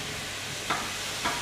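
Sausages and vegetables frying in a pan, a soft steady sizzle with two brief louder scrapes of stirring, faint and close.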